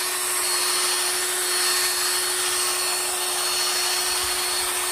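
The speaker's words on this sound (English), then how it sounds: "we got our ball sander in the gun. We'll just start the polishing on this thing." A ball sander chucked in a drill polishes a wooden walking stick, giving a steady, loud whirring drone with a constant tone that runs unbroken throughout, with no talking.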